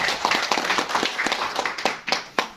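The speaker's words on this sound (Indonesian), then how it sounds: "Tepuk tangan untuk PAC semua" Audience at a Democratic Party branch meeting claps for PAC members, a short burst of scattered, moderately close applause with a few sharper individual claps toward the end.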